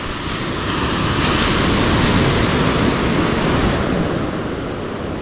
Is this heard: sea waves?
yes